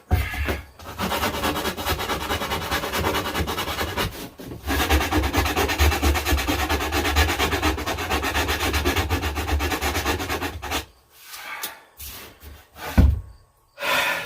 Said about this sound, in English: Sanding by hand is for the birds.